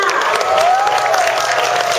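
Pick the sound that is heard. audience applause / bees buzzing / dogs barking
audience applause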